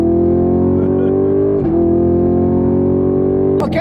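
A modern muscle car at full throttle, its engine roaring loud and close in a steady strong drone that holds high, with a brief dip and a sharp shift near the end.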